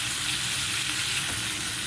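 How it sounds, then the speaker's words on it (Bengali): Small shrimp fry lightly in oil left from frying potatoes and pointed gourd, giving a steady, even sizzle up close with no talk. "এবারে আলু আর পটল ভাজার তেলের মধ্যে এই চিংড়ি মাছগুলো আমি হালকা করে একটু ভেজে নেব"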